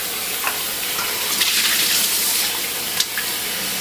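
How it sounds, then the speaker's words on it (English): Beef tripe being rinsed under a running kitchen tap for sopa de mondongo: a steady broadband rush of water with a few brief splashes and spatters, close and fairly loud, with no talking. "And now we're gonna give it a quick rinse."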